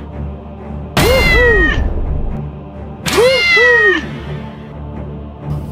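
A cat meows twice, two loud, close, drawn-out calls about two seconds apart with quiet gaps between.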